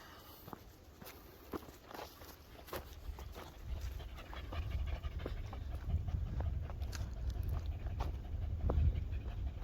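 Dogs pant heavily on a muddy hiking trail, quick rhythmic breaths close by, mixed with paw steps and shuffling that grow louder over the stretch, with no talking.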